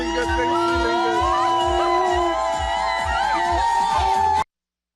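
A crowd cheers at a Barbados election campaign event in Mahaica, whoops and shouts rising over steady rhythmic music, loud and lively until the sound cuts off abruptly.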